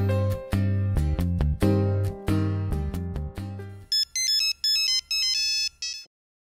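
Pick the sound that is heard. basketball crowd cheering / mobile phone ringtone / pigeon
mobile phone ringtone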